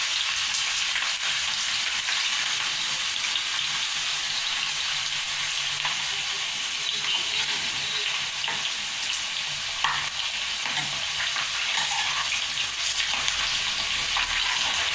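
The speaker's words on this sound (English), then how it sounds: "Now drop all the sliced potatoes into the oil and please deep fry them." Steady, dense sizzling and crackling of sliced potatoes for French fries deep frying in hot oil, a continuous hiss with occasional pops, no talking.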